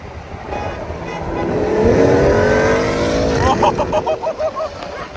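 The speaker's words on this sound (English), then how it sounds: "Alright, we're about to run this Porsche." BMW M340i accelerating hard from a 50 roll in a night race against a Porsche, a loud rising engine drone swelling over a few seconds, then pulsing bursts as the throttle comes off.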